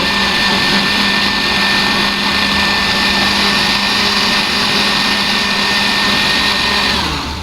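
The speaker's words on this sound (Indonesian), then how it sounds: "ada bawang merah, bawang putih, kemudian cabai besar itu di blender jadi satu." A kitchen blender grinds shallots, garlic and large chilies together into a spice paste for Bugis palekko chicken. Its motor gives a loud, steady whir that runs unbroken for about seven seconds, with no talking.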